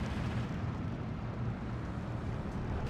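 An off-map artillery barrage lands in the Steel Division 2 wargame as a dense, continuous rumble of blasts with a heavy low end, sustained throughout without distinct gaps.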